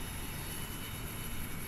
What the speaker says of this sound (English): Love that APU spool up.